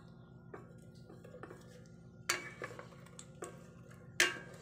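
Pork humba with ketchup being stirred in a pot, with a few scattered clinks and scrapes of a utensil against the metal over a low, steady background hum.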